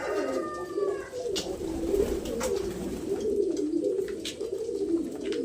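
Pigeons cooing steadily at a pigeon show in Kolkata, soft rolling coos close by and overlapping continuously, with faint chirps in the background.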